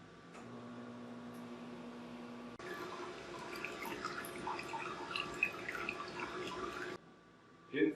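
A Gaggia G150 espresso machine runs its milk system cleaning cycle: a quiet hum and drip, then a steady pump-and-water whir for several seconds before it stops with a final gurgle.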